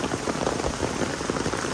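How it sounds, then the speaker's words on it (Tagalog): Heavy rain pouring steadily onto surfaces, a dense continuous hiss and patter at even loudness throughout, with no voices. "Grabe ang lakas ng ulan."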